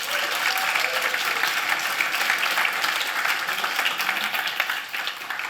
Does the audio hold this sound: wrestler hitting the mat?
no